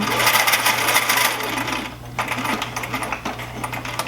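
A sewing machine runs while stitching a dart in a garment, its continuous mechanical whir steady at first, then pausing and resuming with a few sharp clicks and rattles, close up.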